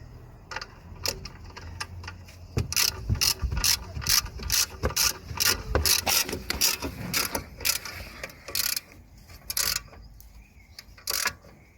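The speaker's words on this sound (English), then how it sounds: "So we're going to tighten this bolt, this nut here." A ratchet tightens the front strut mount nut on a Seat Altea, giving bursts of quick close clicking that stop and restart over a low metallic rubbing background.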